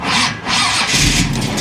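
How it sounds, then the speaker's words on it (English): A 1971 Chevy Nova engine cranks and catches, then roars up into a loud, close rev that holds strong to the end. "So we'll fire this up. We'll wing it up a few thousand RPM."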